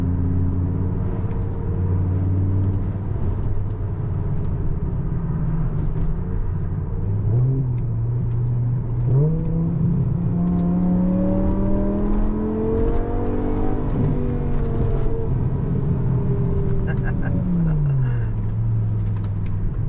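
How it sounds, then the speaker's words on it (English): A high-revving BMW E60 M5 V10 engine with loud Eisenmann race exhaust, its pitch climbing and falling through several rev sweeps, steady and close throughout. "that Eisenman race exhaust really gets the best out of this engine"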